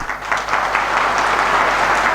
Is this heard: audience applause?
yes